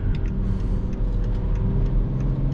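A BMW X5 E70 3.0 SD diesel with 286 HP driving through city streets, heard as a steady low engine rumble and road noise from inside, with faint ticking clicks over the drone.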